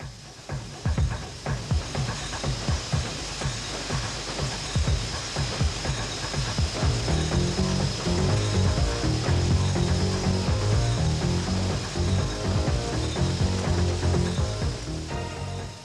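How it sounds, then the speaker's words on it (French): A capsule-manufacturing stamping press runs continuously in a factory, a loud dense mechanical clatter of rapid repeated strikes and rattling that builds slightly in the second half, with no voices. "Le métier à emboutir."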